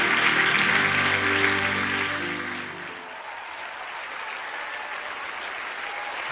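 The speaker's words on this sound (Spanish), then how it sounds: "Dale aplauso al Señor." A church congregation applauds together for several seconds, loud and sustained, with sung or spoken tones under the clapping at first. The applause then eases into a softer, steady patter.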